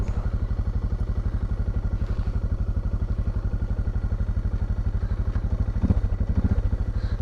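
A dirt bike engine runs steadily nearby with a rapid, even thumping pulse and some mechanical clatter, holding a constant idle-like rhythm, with a brief louder surge near the end.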